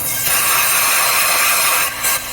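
Contact cleaner sprayed from an aerosol can into the spark plug hole of a Triton V10 engine during a Timesert thread repair. It makes a loud, close, continuous hiss that breaks briefly near the end, with no talking.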